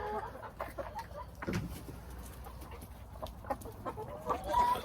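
Several chickens cluck and murmur softly in a steady, scattered chorus, with low background rustle and no talking.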